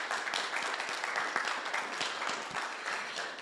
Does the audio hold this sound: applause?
yes